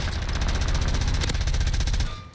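Rapid automatic gunfire from a hard-recoiling weapon in Warzone rattles out in one continuous loud burst of evenly spaced shots, then stops abruptly near the end, with no voices over it.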